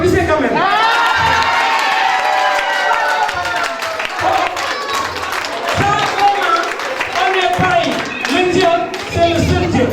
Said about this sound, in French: Mais applaudissez quand même.